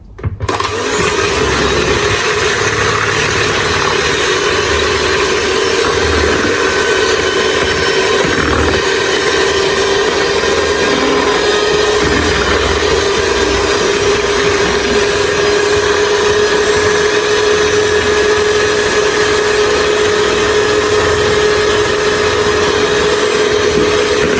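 An electric whisk drones loudly and continuously for over twenty seconds while beating eggs, a steady close motor hum with no voices.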